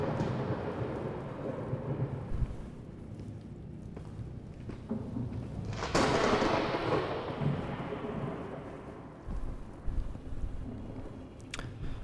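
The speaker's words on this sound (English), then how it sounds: "Oh, it's a thunderstorm." A thunderstorm inside the Into the Radius video game, with a steady wash of rain and low rumble; a loud thunder crack breaks in near the middle and slowly rolls away, with smaller crackles later.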